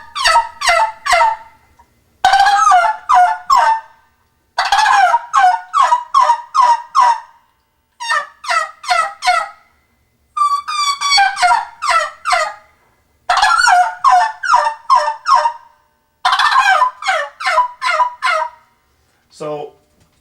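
A jake turkey gobble imitated on an oak tube call: repeated rapid, rattling bursts in about eight clusters with short pauses between, loud and close, with no talking.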